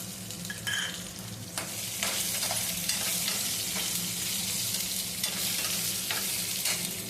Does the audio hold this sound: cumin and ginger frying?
yes